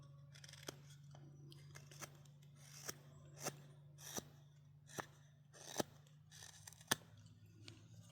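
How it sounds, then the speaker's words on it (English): Knife shaving the sides and top of a white pine spoon, a series of sharp, crisp scraping cuts at a steady pace, close and fairly quiet over a low steady hum. "I'm going to be shaving in the sides here and the top to make sure everything's as even as possible."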